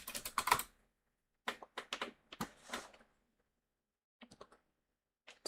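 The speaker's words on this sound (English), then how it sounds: "Typewriter sound effect." Bursts of typewriter keystrokes clatter in quick clusters, a dense run at the start followed by shorter rapid volleys separated by pauses, close and clear with no talking.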